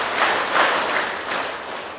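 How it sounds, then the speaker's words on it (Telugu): A group of schoolboys at a school Yoga Day gathering clap in a ragged, overlapping burst of many hands rather than three clean claps, moderately loud and steady for about two seconds with no talk. "okay boys 3 claps"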